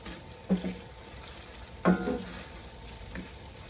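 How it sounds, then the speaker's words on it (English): Spoon stirring spices into browning hamburger meat in a frying pan, a couple of soft scraping strokes over a low sizzle, close and fairly quiet. "I'll stir up all the spices good."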